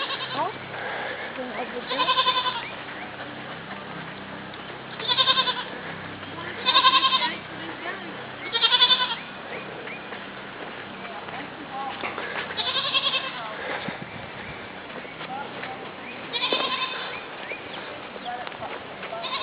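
Goats bleat during a creek flood, with repeated loud bleats at irregular intervals over a steady background wash and people talking quietly.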